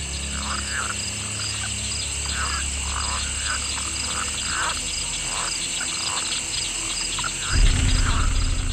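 A dense night chorus of frogs and amphibians in a Cajun swamp, with rhythmic repeated croaks over a constant high insect drone, a continuous wall of sound and a louder low rumble near the end.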